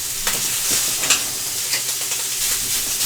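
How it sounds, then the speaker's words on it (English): Hamburger meat in one pan and steak in olive oil in another fry with a steady, loud sizzle, broken by occasional stirring scrapes and pops. "We're going to put our hamburger in one pan, and a little bit of olive oil with our steak in another"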